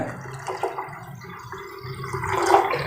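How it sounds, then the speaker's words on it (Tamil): Water pours steadily into a pot of lentils for sambar, a gurgling splash that swells toward the end, close and fairly loud. "அரை கப் பருப்புக்கு நீங்கள் ரெண்டு கப் அளவுக்கு தண்ணி சேர்த்துக்கலுங்க"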